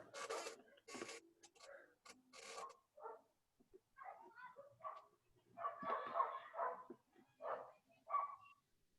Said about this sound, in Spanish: ¿A quién le salían los perros?